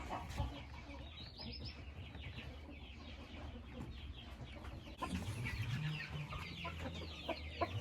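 Marans rooster and hens in a backyard enclosure cluck steadily and fairly close, with a louder burst of clucking and squawks in the second half over rustling farmyard ambience.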